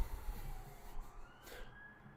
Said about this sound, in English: now I see sirens of ambulance